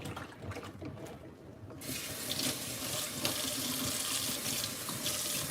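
Hot water runs from a tap into a kitchen sink to make dishwater, a steady close rushing hiss that starts abruptly after a quiet moment and keeps flowing, with no talking.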